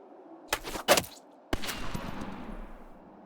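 Musket shots in the video game Pentiment: a pair of sharp cracks close together, then a louder blast about a second later that rolls out into a long fading echo, with no talking.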